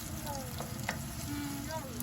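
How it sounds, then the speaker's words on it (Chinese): Meat sizzling and being stir-fried in a pan for a toddler's meal, a steady close crackle with a few scraping stirs, with faint talk in the background. "将肉先放到锅里面。 先煎一煎，炒一炒。"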